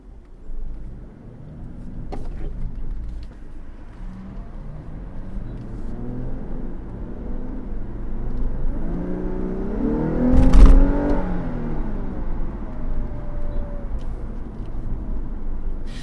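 A Lexus LC 500h hybrid coupe driving on the road, its engine note rising as it accelerates and peaking in a strong surge midway before settling back into a steady cruising hum, heard from inside the car with no talk.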